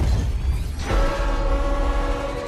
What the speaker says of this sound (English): There's a train going through.